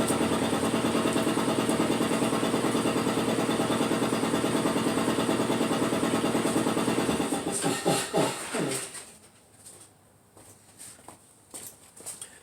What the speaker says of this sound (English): my air compressor is running in the background